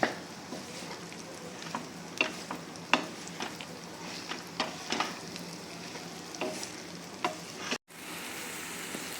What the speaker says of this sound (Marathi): आता ही भेंडी आपण कढईमध्ये वाफायला टाकू